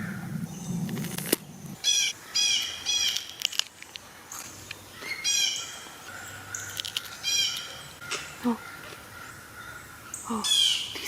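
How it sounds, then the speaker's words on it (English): Outdoors on a rainy day, several birds in a fight squawk and chirp in repeated sharp bursts, some close and loud and others quieter, over a soft background hiss. "These birds are having a fight right now."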